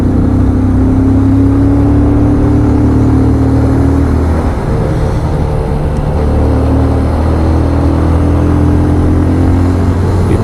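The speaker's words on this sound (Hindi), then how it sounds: "ये गाड़ी की आवाज़ क्या साउंड कर रही भाई" Bajaj Pulsar 220F motorcycle engine riding a forested mountain road near Kedarnath and Tungnath, a loud steady drone with a constant low hum throughout, no talking.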